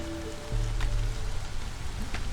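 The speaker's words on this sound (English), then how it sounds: "Yep, it is raining" Rain falls steadily in the video game Against the Storm, a continuous close patter on surfaces with low tonal hums from the game underneath.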